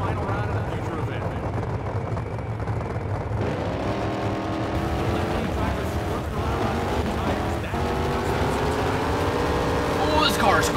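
Drag race car engine in an NHRA drag racing video game roars with a steady, rising whine that climbs in pitch through the run, while someone talks over it.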